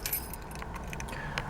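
Car keys jangle close by in a steady, continuous metallic rattle with small bright clinks, quiet and alone without voices.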